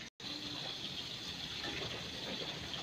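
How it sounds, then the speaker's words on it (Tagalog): Water gushes steadily into a container for soaking eggplant, a continuous close splashing fill that carries on after a brief break at the very start. "Ang eggplant ay ibababad sa tubig"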